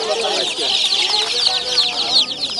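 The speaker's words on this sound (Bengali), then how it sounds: "মুরগির বাচ্চা।" A crowd of chicks for sale at a busy rural poultry market fills the air with dense, high, overlapping peeping and clucking, close and continuous, with faint voices in the background.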